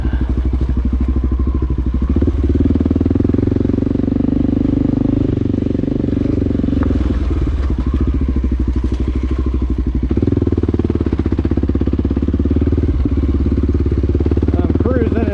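A Honda XR650L motorcycle cruises in second gear, its engine droning loud and steady, thumping and rattling for the full run. Wind and clatter ride on top of the constant engine note.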